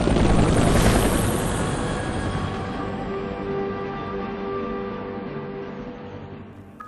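A helicopter in the video game F.E.A.R. 3 drones with a loud, steady rotor and engine roar that gradually fades over about seven seconds, with no voices.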